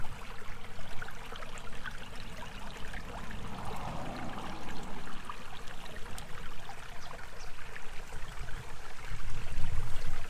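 Filtered water from an off-grid reverse osmosis purifier trickles thinly into a small 250 ml mug, a soft continuous dribble over a faint background hiss, with no talk.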